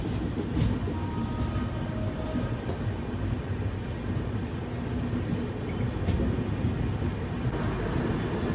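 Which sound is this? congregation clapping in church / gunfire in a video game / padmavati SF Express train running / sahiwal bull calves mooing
padmavati SF Express train running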